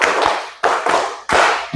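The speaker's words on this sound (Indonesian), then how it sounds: "tepuk 5" A classroom group claps in rhythm during an ice-breaking clap game, with three sharp bursts of several quick hand claps, each separated by a brief pause, loud and close, with no talking.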